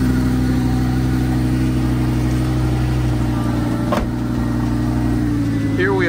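A Lamborghini sports car engine hums steadily at a low, even pitch, close by, with faint voices underneath and a brief sharp knock partway through.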